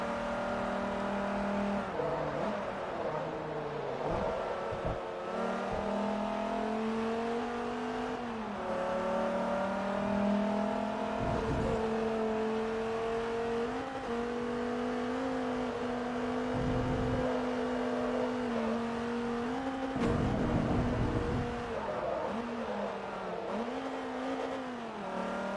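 Race car engine in Forza Motorsport 3 during a premium sedan race, a loud steady drone with rising and falling revs through gear changes, sustained close and alone throughout.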